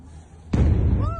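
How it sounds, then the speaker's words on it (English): Gunfire during street protests in Iran: a sudden loud burst strikes midway through the clip, with a dense noisy crackle rumbling on after it over faint background noise. "You can hear the gunfire."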